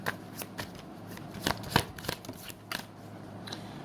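Tarot cards shuffled by hand, a run of crisp riffling bursts and soft flicks spaced irregularly over a quiet room, fairly close.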